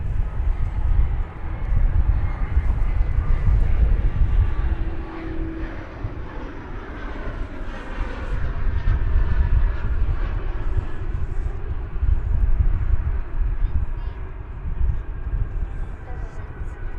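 An American Airlines Airbus A321 jet departing DFW for Phoenix gives a steady, moderately distant engine roar that swells and eases over the span, with people talking over it.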